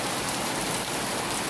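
Steady rain pours onto a flooding street during a thunderstorm, a dense, continuous hiss of drops on pavement and water with no voices, close and fairly loud throughout.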